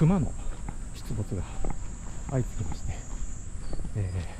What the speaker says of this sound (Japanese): セミの鳴き声も聞こえています。